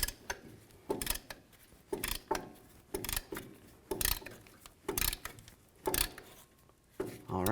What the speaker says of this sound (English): we're going to push back both of these pistons at the same time